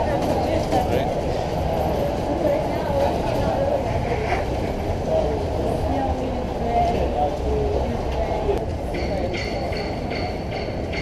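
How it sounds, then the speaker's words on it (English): A New York subway train rumbles steadily at close range on a snowy day, a dense low roar with rail clatter, while people talk over it. "Subway."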